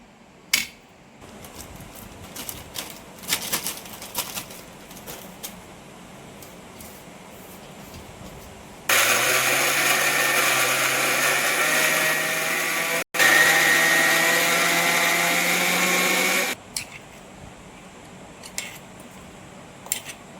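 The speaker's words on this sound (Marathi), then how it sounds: "ते सर्व मी असं मिक्सरला बारीक करून घेते" Mixer grinder whirring as it grinds grated fresh coconut, a loud steady motor drone of about eight seconds with a brief cut midway, set between quiet kitchen stretches.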